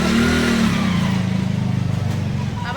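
A car engine runs steadily nearby with a rough, pulsing rumble, rising slightly at the start before settling into an even idle-like drone.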